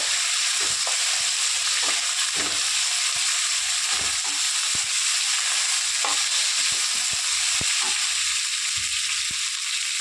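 Sliced ivy gourd fries lightly in hot oil with onion and chili, giving a steady, close sizzle broken by frequent clicks and scrapes of stirring, with no talking.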